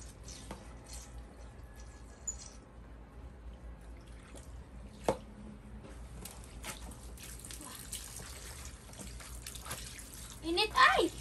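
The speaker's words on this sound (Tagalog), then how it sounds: "Punuin mo naman yung batya ng tubig." Water from a hose runs steadily into a washtub, a continuous low rush and trickle with a few drips and clinks, while people talk intermittently nearby.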